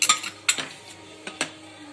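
A spoon clinks and scrapes against a pan as black masala and red chili are mixed for stuffed brinjal. A few sharp metallic knocks come at irregular intervals, close and fairly loud, with no talking.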